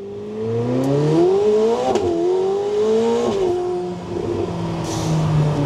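A McLaren 750S supercar accelerating hard, its engine note climbing loud and close through several quick gear changes, each marked by a brief dip before the next rising pull.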